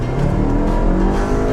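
A 2015 VW Golf Mk7 with a 1.8 liter turbo engine accelerates hard at full throttle, its loud, steady engine drone and rising revs filling the whole short stretch with no talking.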